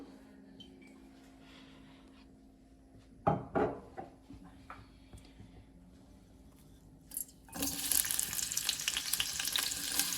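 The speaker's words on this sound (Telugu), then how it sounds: "దీన్ని ఫ్రై చేసుకుందాం" Quiet kitchen noise with a couple of clattering knocks, then loud, steady sizzling and crackling of catla fish frying in a little hot oil fills the last few seconds.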